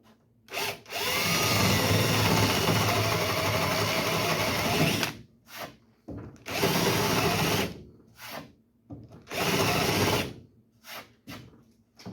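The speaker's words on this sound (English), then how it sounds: "So I'll just take my drill and drill them out." A power drill whines loudly in three long bursts separated by short pauses, grinding as it drills out a metal nut on a 1951 Chevy truck bed close by.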